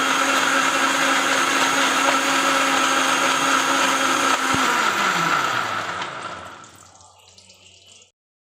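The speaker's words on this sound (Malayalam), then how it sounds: "തണുപ്പിച്ച ഒരു അരക്കപ്പ് പാലൊഴിച്ച് നമുക്കിത് നന്നായിട്ടൊന്ന് അടിച്ചെടുക്കണം" An electric blender whirs at a steady high pitch while mixing honey with chilled milk for an energy drink, then winds down halfway through and spins to a stop, leaving near silence.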